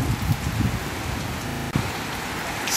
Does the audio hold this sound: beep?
no